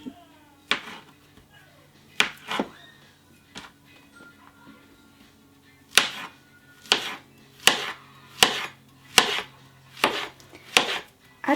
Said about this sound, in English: I'm going to cut some bananas.